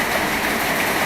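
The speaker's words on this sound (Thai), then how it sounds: "ฝนตกมาฝนตกเสียงดังมากเลย" Heavy rain in PUBG Mobile, a loud, dense and constant hiss of falling water with no breaks or other sounds.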